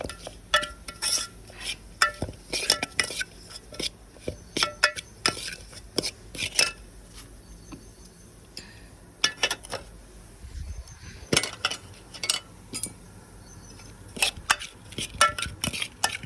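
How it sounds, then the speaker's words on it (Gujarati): Gram flour roasting in oil in a pan is stirred with a utensil, giving irregular scraping and clinking against the metal pan in bursts throughout, close and clear, with no talk. "જો બરવા માંડી ગયો છે આપણે ચણાનો લોટ"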